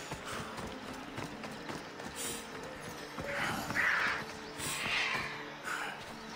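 A horse's hooves clip-clop faintly in Assassin's Creed Odyssey game audio, a steady quiet patter mixed with soft mechanical ambience and a few brief louder swells, with no talking.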